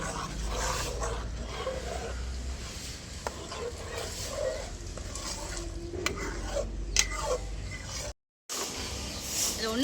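A wooden or metal spoon stirs thick tuber kali dough in a pot, giving a continuous soft scraping and slapping texture with faint background hiss, ending in a brief dropout before resuming.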